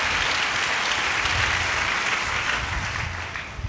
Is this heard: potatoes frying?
no